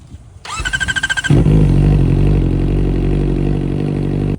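A motorcycle with an aftermarket exhaust: the starter whirrs rhythmically, then the engine fires into a loud, deep, rumbling idle close by.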